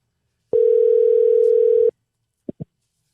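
A single steady telephone tone sounds for over a second while a call is redialed, followed by two short low blips after a pause, with no talking.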